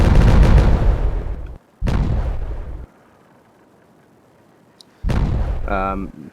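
Detonation explosions in the video game Timberborn: three loud, heavy booming blasts separated by quiet gaps, the last followed by a rising, ringing tone.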